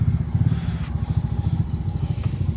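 Motorcycles roll onto a ferry boat with a close, pulsing engine putter and a rough, throbbing idle, joined by a few clattering knocks as the bikes board.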